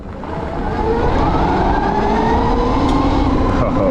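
An NIU XQi3 electric motorcycle accelerates in sport mode on a trail, its motor whine rising steadily in pitch, loud and continuous with road and wind rumble underneath.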